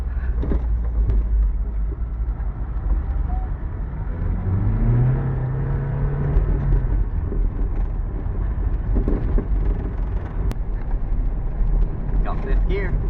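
Toyota MR2 pulling away in first gear, its engine giving a steady low rumble that rises in pitch as it accelerates, loud and close from inside the car.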